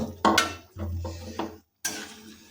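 Metal utensils scrape and clink against a kadai in a few separate bursts while fried jackfruit is lifted out and strained, with a brief pause before more clattering near the end.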